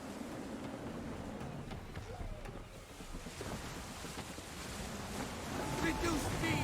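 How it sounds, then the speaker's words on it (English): Gusty wind and rolling waves surround a sailing ship in Assassin's Creed III, a continuous rushing roar that swells louder toward the end, with voices speaking over it. "Gusty winds can be difficult to manage."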